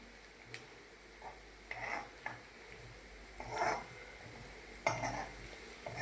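Ginger and green chillies fry gently in a pan with a soft background sizzle, broken by several sharp scraping knocks of a spoon stirring against the pan.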